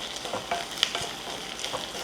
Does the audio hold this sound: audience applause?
no